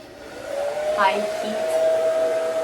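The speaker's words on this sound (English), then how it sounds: "now we're gonna work out the curls throughout with my hair dryer" Steady, loud whoosh of a hair dryer blowing continuously on high heat while drying curls, with a constant motor whine running through the whole stretch.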